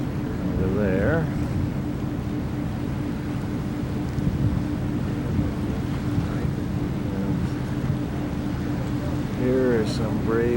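A boat crosses a lake toward a small village beneath mountains, with a steady low engine rumble and wind buffeting the microphone throughout, water noise beneath, and faint voices at the start and near the end.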